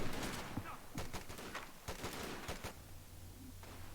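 Rapid bursts of gunfire and a grenade blast from a real-time strategy video game, with close, loud volleys stacking over each other before thinning out to a quieter hum near the end.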